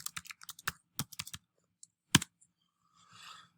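A search typed on a computer keyboard, quiet close key clicks in quick irregular bursts, one sharper tap near the end followed by a soft brushing sound.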